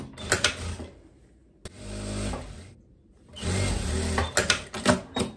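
Domestic sewing machine stitching the hem of a striped linen dress, running in short bursts with pauses between them, close and moderately loud, with mechanical clatter and a few sharp clicks.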